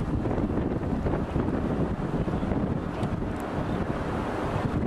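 Tornado wind roars as a steady, dense, broadband rush that buffets the microphone continuously, loud and unbroken with no voices.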